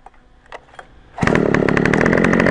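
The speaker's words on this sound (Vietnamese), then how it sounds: "Khởi động thì chúng ta vẫn bật công tắc lên và giật nổ." An Oshima two-stroke earth auger engine catches on the pull cord after a few faint tugs, then roars into a loud, steady, buzzing idle close by.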